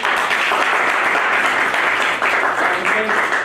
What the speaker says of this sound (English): Let's give a round of applause for our speakers again.